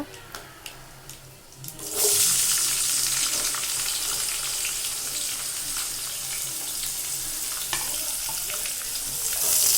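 Chopped onions drop into hot oil in a pan for egg biryani and set off a loud, steady sizzle, after a couple of seconds of quieter clatter at the start.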